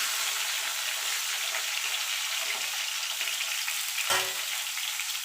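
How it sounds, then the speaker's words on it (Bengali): Pointed gourd (potol) pieces fry in oil over low to medium gas heat, giving a steady, bright, close sizzle that runs on unbroken, with one brief clatter near the end. "এই তেলে আমি পটলগুলো ভেজে নেব।"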